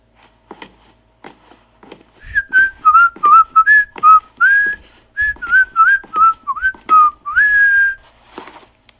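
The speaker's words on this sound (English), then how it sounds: "Then Batman hears a man whistling and the footsteps, a guard." A guard whistles a lively, wavering tune in short phrases in the video game Batman: Vengeance, close and clear, with soft footsteps and faint clatter around it.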